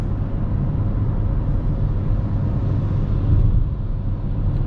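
A 2020 Dacia Duster running on LPG drives uphill, its engine a steady, loud low rumble with road noise that holds level throughout.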